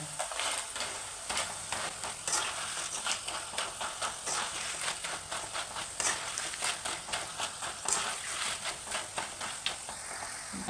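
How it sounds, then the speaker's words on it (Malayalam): Slices of raw banana deep-fry in hot oil as a dense, steady crackle. A rhythmic scraping stir repeats throughout, with no voices. "ഒരുപാട് കരിഞ്ഞു പോകരുത് കൂടെ നിന്ന് തന്നെ രീതി ഇളക്കി ഇളക്കി ഇങ്ങനെ എടുക്കണം"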